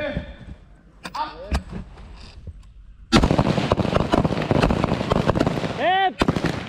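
Gunshots on a Thai firearms training course ring out as sharp, loud single reports, a few scattered early, then a denser run of shots alongside shouted commands.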